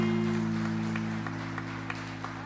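A church congregation applauds at an evening service, a steady wash of clapping over sustained organ or keyboard chords that fades slightly toward the end.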